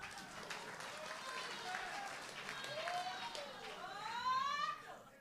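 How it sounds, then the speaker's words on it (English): Audience applause at the 2023 Gauteng Provincial Excellence Awards, a dense wash of clapping that swells toward the end, with whoops and cheering voices rising over it. "Give them a round of applause."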